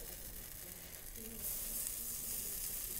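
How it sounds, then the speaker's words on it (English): A faint, steady sizzle of shortening frying in a pan, hissing softly on its own and growing slightly louder partway through. "Oh, it's making a sizzle."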